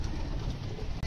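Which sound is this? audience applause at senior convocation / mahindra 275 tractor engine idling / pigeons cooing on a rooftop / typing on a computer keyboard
pigeons cooing on a rooftop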